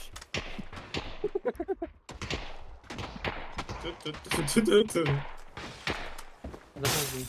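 Sharp PUBG gunshots crack in quick bursts, mixed with impacts and clatter, while a person talks over the action throughout.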